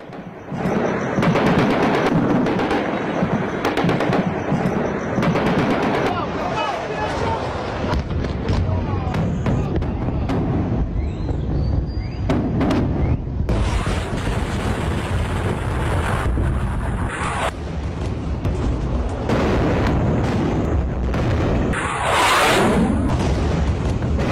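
Missile strikes hit Israeli cities, with repeated heavy booms and bursts over constant roaring wind and crowd noise, loud throughout with overlapping impacts and scattered voices.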